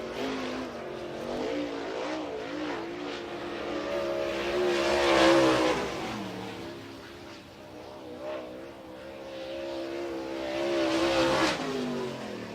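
A MARS late model race car, a Rocket XR1 chassis, runs laps on the dirt oval at Cedar County Raceway, its engine rising and falling as it revs through the corners and swells twice as it passes close by.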